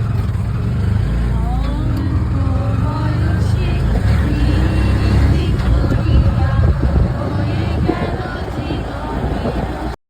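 Inside a CNG auto-rickshaw on the way toward Bisnakandi in Sylhet, a steady loud engine rumble mixes with wind buffeting throughout, with faint muffled voices in the background.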